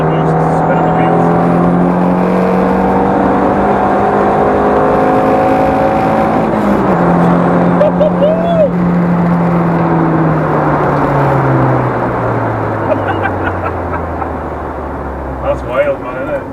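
Car engine revving hard with boost building and wheels spinning, a loud sustained roar that climbs and then winds down steadily, with voices talking over it.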